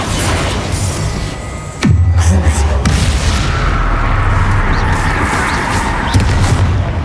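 Bombarda explosion spell cast in Hogwarts Legacy: a heavy booming blast strikes about two seconds in, followed by a low rumbling sustain, with another burst near the end amid ongoing game combat noise.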